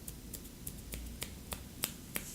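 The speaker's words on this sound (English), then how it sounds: "Try to snap your fingers without it hitting your hand." Eight or so sharp finger snaps crack out one after another at a loose, even pace, close and crisp against a quiet background.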